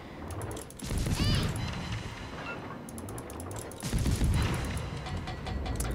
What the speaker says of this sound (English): That is an AG firing war spike